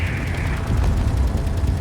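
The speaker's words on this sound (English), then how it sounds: "I think that was a railgun that hit me, and that was a massive hit." In Space Engineers, a railgun hit lands as a heavy rumbling blast, with dense low booming and crackling explosions filling the whole short stretch, no voices.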